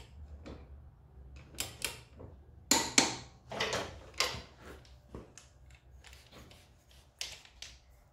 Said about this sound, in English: Now using a torque wrench and a 19mm impact socket, torque up the rear axle to 70Nm